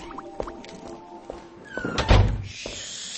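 A heavy door thunks and swings open with a creak and a low thud, among a few scattered knocks and taps.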